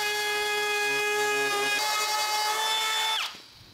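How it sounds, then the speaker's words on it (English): Router rounding over the edges of an aluminum table base, a high whining motor with strong tonal harmonics that runs steadily, shifts pitch as it cuts, then winds down and stops abruptly. "You'll notice I didn't just run that router all the way to the end of the notch"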